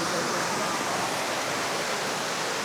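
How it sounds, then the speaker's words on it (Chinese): A waterfall on a mountain hiking trail in Hunan near Shizhu Peak gives off a steady, dense rushing roar that fills the whole moment without pause. "好漂亮的瀑布。"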